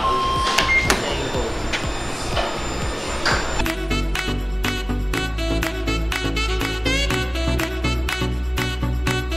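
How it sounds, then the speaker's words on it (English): A Brother GTX printer lays down CMYK ink onto DTF heat transfer film, giving a steady mechanical hum broken by regular clicking carriage passes and stepping pulses, loud and close with no talk. "so now we'll be printing the Cmyk first"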